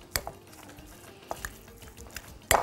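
A spoon works kofta mixture seasoned with black pepper and salt in a bowl, making scattered close clinks and scrapes against the sides, ending with one louder knock.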